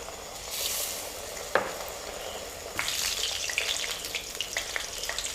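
White gourd and besan fritters sizzling in hot oil, a steady close crackle and bubbling with a sharp clink and occasional stirring sounds; no voices.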